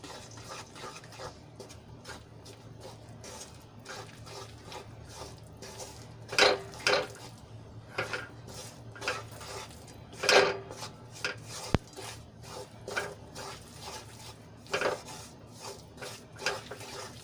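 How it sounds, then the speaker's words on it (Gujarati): Ghee and flour being stirred together in a hot wok for sukhdi, with steady scraping and clinks of a metal spoon against the pan, a few louder knocks standing out from the background. "એમાં આપણે લોટ એડ કરી લઈશું અને સરસ રીતે આપણે ઘીમાં એને મિક્સ કરી લઈશું"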